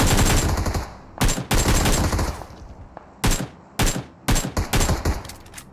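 Rapid automatic gunfire bursts in the mobile battle royale game PUBG Mobile, loud and close, several sharp volleys separated by brief gaps, with no talk.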